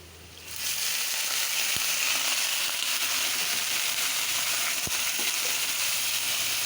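Fried onions in a pan hiss into a loud, steady sizzle as water is poured in, the broadband crackle holding evenly close up with a couple of sharp ticks and no talking.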